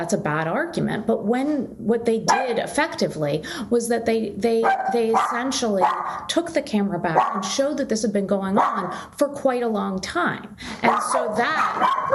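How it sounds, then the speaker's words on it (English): A dog barks repeatedly in the background, yips and barks recurring throughout and partly masked by someone talking continuously over them. "sorry about the dog"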